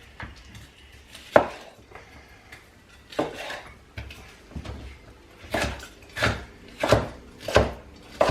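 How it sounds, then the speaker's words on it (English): Knife chopping capsicum on a chopping board in a home kitchen, a series of sharp, close taps that come irregularly at first and then settle into a steady rhythm of firm cuts near the end. "Now capsicum, I'm just going to top and tail it"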